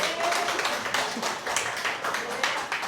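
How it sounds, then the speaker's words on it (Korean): A church congregation breaks into applause after a sermon point, a dense wash of many hands clapping in a hall for a few seconds, fairly loud and continuous. "박수 쳐야죠"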